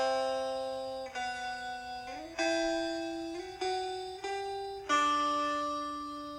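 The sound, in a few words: layered guitars playing in harmony in a lofi beat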